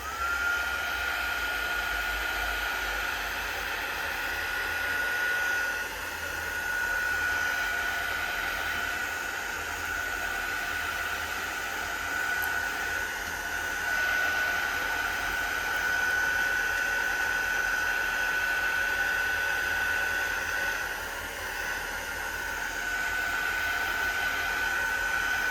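A heat gun runs on a grungy junk journal, giving a loud, steady, close roaring blow with a faint high whine that holds throughout without a break.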